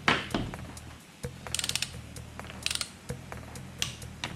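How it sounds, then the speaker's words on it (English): A spanner is worked on a cylinder head nut of a two-stroke RM125 motorcycle, giving quiet metallic ratcheting clicks and taps in short irregular bursts with pauses between them. "The one I can't get to, just use a spanner."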